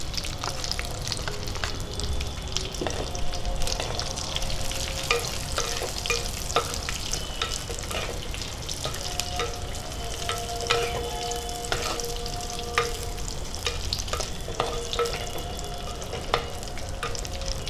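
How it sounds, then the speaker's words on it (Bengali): Cashews and raisins fry in a pan, giving a steady, dense sizzle with frequent stirring scrapes and small clinks, close and continuous, with no talking. "কাজু কিশমিশটা হালকা ভাজা হয়ে গেছে"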